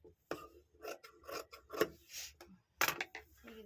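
Scissors snip through nightie fabric during an alteration, a close series of short crisp cuts and rustles with brief pauses between them.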